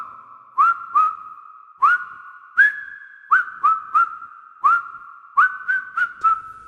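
A series of sharp, rising two-note whistles repeated in quick rhythmic bursts, loud and close, with short pauses between groups.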